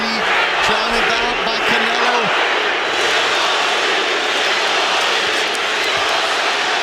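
A large boxing arena crowd roars for Gennady Golovkin at his fight against Canelo Alvarez, a broad continuous din under a commentator's voice, with brief whistling tones early on.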